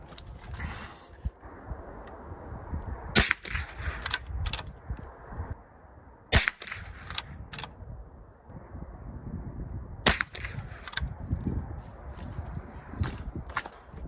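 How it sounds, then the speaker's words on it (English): Shots from a Winchester 9422 XTR .22 rifle firing Mini Mag ammunition outdoors: sharp, short cracks spaced a few seconds apart, each trailing briefly, over light wind and ambient rustle. "we're gonna take 3 more shots with the mini mags"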